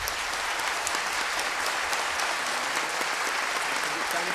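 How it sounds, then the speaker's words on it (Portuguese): An audience applauds with a dense, steady wash of clapping, sustained and even at moderate loudness throughout, with no voices over it. "As palmas são para ele,"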